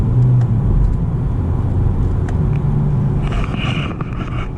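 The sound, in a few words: 2020 Honda Civic Sport 2.0L CVT car driving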